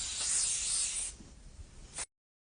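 Pesticide sprayer misting sunflowers on a farm: a loud steady hiss of spray for about a second, then quieter, with a brief renewed burst before it cuts off.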